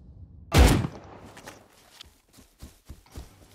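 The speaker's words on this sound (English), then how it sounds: "He's trying to shoot me from literally 100 meters away with a pump." One loud, close pump-shotgun blast goes off in the survival game Rust, followed by a series of soft, irregular ticks and thuds like footsteps or movement, with no voices.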